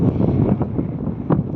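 Wind blows hard across the microphone outdoors in Mongolia, a loud, rough buffeting roar that surges and fades in uneven gusts.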